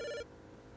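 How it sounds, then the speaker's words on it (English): A telephone rings once in a short, clear electronic tone that cuts off abruptly, leaving a quiet room. "My spooky phone's ringing."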